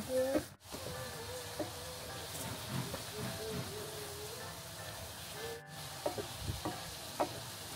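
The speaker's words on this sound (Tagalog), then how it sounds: "Just mix, my love. Enjoy mixing." Food being stirred as it cooks in a pan, a steady hiss and sizzle running throughout with scattered scraping knocks of the utensil, fairly quiet and without talk.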